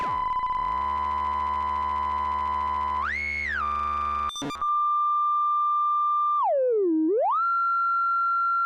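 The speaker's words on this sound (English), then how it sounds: "with both of them on the sine wave" Pure sine tones from the oscillators of a Blue Lantern Mr. Wavey synth module, a steady hum that glides up, briefly stutters, then holds a clean single tone and dips down and back up again.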